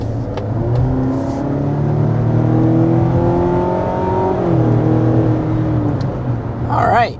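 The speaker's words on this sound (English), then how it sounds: "we're going to begin by getting a hard acceleration" A 2025 Mazda CX-70 PHEV plug-in hybrid SUV under hard acceleration, its steady engine drone rising and holding in pitch from the cabin for about seven seconds, loud and continuous, with a brief tire or road whir near the end.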